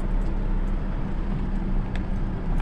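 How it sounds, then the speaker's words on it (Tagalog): An oncoming car and jeep on a narrow rural road in Tarlac, heard as a continuous loud engine and road drone with faint clicks over it. "May kotse, may jeep, patay."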